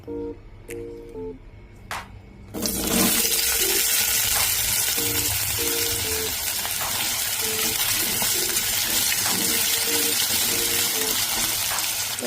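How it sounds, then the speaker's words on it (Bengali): Diced potatoes hit warm mustard oil with a little salt, setting off a sudden loud, dense sizzle that holds steady and close for the rest of the clip after a quieter opening with a soft tonal background. "সর্ষের তেলটা হালকা গরম হয়ে গেলে আমি যে ডুমো ডুমো করে আলুগুলো কেটে রাখা ছিল সেগুলো একটু অল্প নুন দিয়ে ভেজে নেব"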